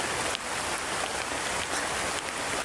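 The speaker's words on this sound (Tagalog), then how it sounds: "At sobrang ulan ngayon" Heavy rain makes a dense, steady hiss that fills the whole scene without a break.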